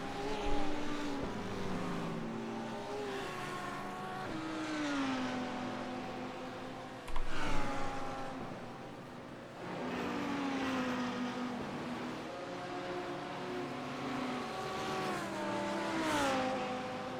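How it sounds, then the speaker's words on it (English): GT3 race cars running side by side in a racing game, their engines droning and shifting through rising and falling gear sweeps, with a brief louder burst midway and a steady multi-car roar throughout, no talk. "Cars battling behind, side by side, going into the kink."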